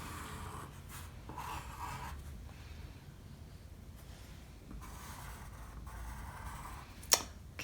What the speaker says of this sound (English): And then trace over it with your pencil.